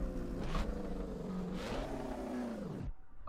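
A car engine in the Assetto Corsa racing game revs up and holds high before the sound cuts off abruptly near the end, loud and close without talk over it.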